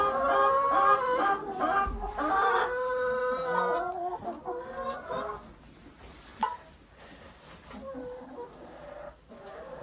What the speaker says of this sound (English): That hen there's wanting to get out.